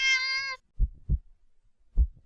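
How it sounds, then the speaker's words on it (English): A cat gives one drawn-out meow followed by several deep, thudding low pulses, close and loud with no talking. "The cat meows at you again, but it sounds much deeper than earlier"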